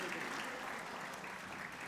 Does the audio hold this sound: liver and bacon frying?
no